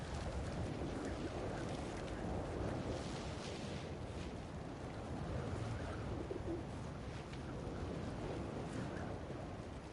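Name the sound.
pigeons cooing in video game Marvel's Spider-Man 2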